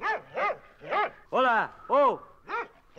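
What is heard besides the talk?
dog barking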